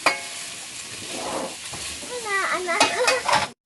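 Ingredients sautéing in the pan that was used to cook meat, making a steady sizzle with stirring scrapes, while a voice with rising pitch sounds nearby in the latter half.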